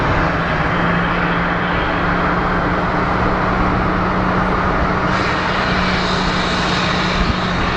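Southwest airliner Flight 3225 from Albuquerque arrives at Phoenix Sky Harbor International Airport. A loud, steady jet engine roar fills the scene without a break, close and constant, with no talking.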